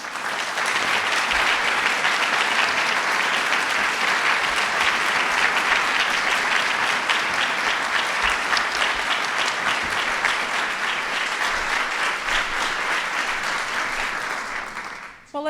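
A sustained ovation for honorees at the National Medal for Museum and Library Service ceremony: thick, even applause from a full room, loud and unbroken for about fifteen seconds before cutting off abruptly.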